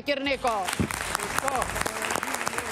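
Audience applause at a stage show, a broad steady wash of clapping that runs under a voice talking loudly over it throughout.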